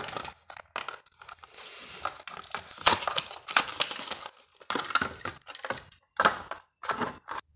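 A Hot Wheels Mitsubishi Lancer Evolution VII toy car's plastic and cardboard blister package is torn open by hand, with close, loud crackling, crinkling rips in short irregular bursts separated by brief pauses.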